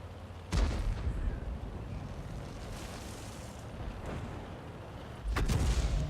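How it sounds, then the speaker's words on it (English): Artillery fire in the tank combat game World of Tanks: several heavy booming shots at uneven intervals, with a loud one early and another near the end, over a steady low rumble of engine and battle noise. "Artillery taking shots."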